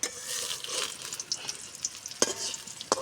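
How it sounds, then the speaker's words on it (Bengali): Pointed gourd leaf pakoras fry in oil in a wok with a soft, close hiss. Quiet stirring scrapes and sharp clicks of a utensil break through the sizzle. "আমি এবার কড়াইয়ে তেল দিয়ে দিয়েছি, এবার কড়াইয়ে বসাবো"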